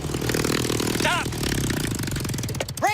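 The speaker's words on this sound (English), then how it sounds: "Yeah! That's the motorcycle!" A motorcycle engine roars loudly and continuously at close range, a rough, throbbing drone with clattering texture, while excited shouting from people breaks over it.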